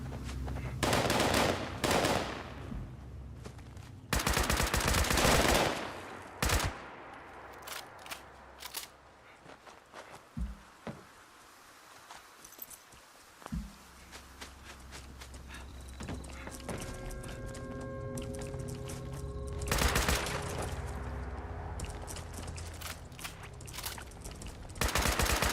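Bursts of video game gunfire, some rapid and sustained like automatic fire, others short and scattered, with a long quieter stretch in the middle and loud volleys near the start and again later.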